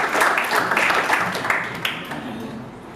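An audience at an education forum in Semarang, Indonesia, bursts into clapping that comes in uneven waves, fairly close and then tapering off toward the end, with faint voices underneath.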